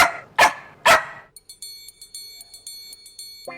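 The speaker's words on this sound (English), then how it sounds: "her constant barking is maddening" A dog barking loudly at close range, two sharp barks followed by quieter yips and whimpers against a faint high electronic tone.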